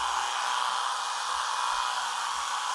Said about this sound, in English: Go ahead and run that clipper blade right over them.